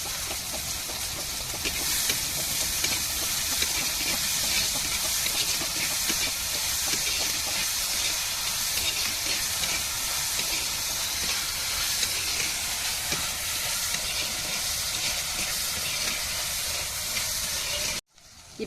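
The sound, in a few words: onions sautéing in a pan for macaroni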